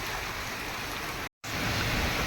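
Heavy rain pours down in a village after days of heat. The loud, continuous roar is broken only by a brief cut partway through.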